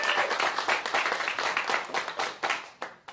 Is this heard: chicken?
no